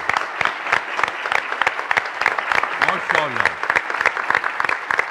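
A studio audience of a comedy talk show, standing and applauding, with dense rhythmic clapping throughout and a voice speaking briefly over the applause midway.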